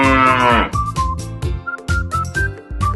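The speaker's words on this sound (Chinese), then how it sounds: "这是黄牛。" Yellow cattle moo, one long loud bellow at the start, followed by shorter mooing calls and music-like tones in a children's farm-animal lesson.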